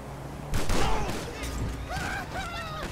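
Video-game gunfire in GTA during a club-versus-club shootout: a sudden loud volley bursts in, followed by further shots and whistling ricochet-like tones, all close and busy.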